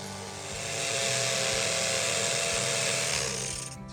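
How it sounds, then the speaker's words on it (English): An electric drill bores into timber for a garden fence, a steady continuous whir that swells in and holds for several seconds, close by and with no speech. "So I brought out an electric drill and see what that one's like."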